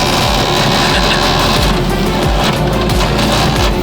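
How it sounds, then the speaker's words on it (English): A faulty new printer roars loudly and steadily throughout, a dense, harsh mechanical din with repeated low thumps from its mechanism, close up and with no voices. "avoid a printer that sounds like this upon plug-in."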